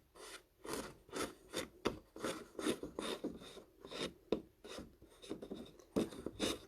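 Trimmed paper edges on a scrapbook page are defluffed with quiet, rhythmic rasping strokes, each brief scrape repeating steadily and close by with no talking.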